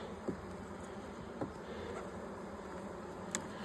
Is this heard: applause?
no